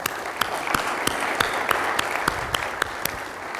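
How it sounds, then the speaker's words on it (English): Audience applause welcoming a speaker at a state technology leadership event, steady dense clapping with sharp individual claps standing out, sustained throughout at moderate level with no talk. "please join me in welcoming him with a round of applause"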